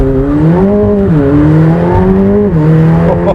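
McLaren 720S accelerating hard in sport mode, its engine note rising loudly in pitch, dipping briefly at gear changes and climbing again, heard close from inside the car with no talking.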